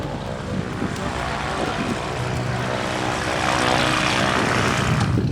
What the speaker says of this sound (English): About to hop in the plane